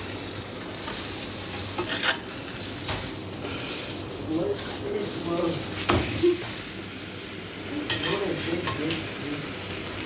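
Fish frying in a pan with too little oil, its skin lifting as it is flipped: a continuous close sizzle with occasional spatula scrapes and clinks, while a voice talks over it.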